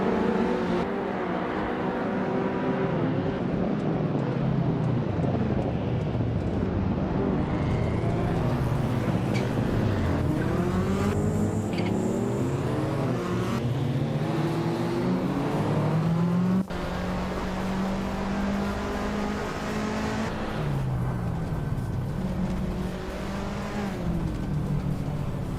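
A 1993 Porsche 928 GTS races at the Nürburgring in a racing video game, its engine revving and climbing through gears with rising and falling pitch, tire squeal and cars passing, loud and continuous.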